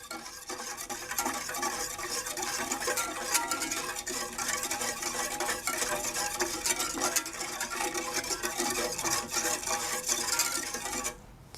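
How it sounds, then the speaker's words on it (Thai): A coconut-milk durian ice cream mixture with yellow food coloring is stirred in a pot. The utensil scrapes and swishes in a continuous rhythm close up, with no voices. "แล้วก็ใส่สีผสมอาหารสีเหลืองลงไปนะคะ คนส่วนผสมให้เข้ากันค่ะ"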